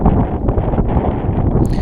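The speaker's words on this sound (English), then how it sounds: "the peak gusts on this day were just under 30 knots" Strong wind gusts of nearly 30 knots buffet a sailboat under way, a loud, constant roar of wind noise close to the microphone with no talk.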